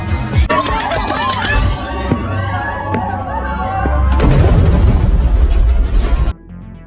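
A basement blown up in an action film scene, heard as loud booming blasts and rumbling debris that fill the clip, with a surge of heavy crashing near the end before cutting off abruptly.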